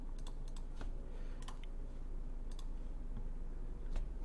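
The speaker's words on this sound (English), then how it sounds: "I'll just type it in right here." A computer keyboard is typed on in short bursts of crisp, close key clicks with pauses between, over a steady low hum and no speech.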